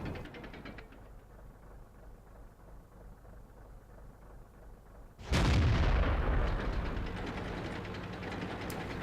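A tank gun in World of Tanks fires a single loud, booming shot midway through a low engine drone, the blast decaying into a sustained rumble.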